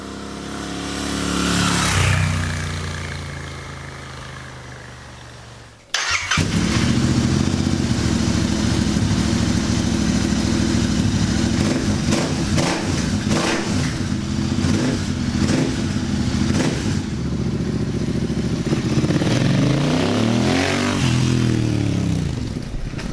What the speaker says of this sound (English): There is a little bit of popping on the overrun though, so there's still a bit of character in there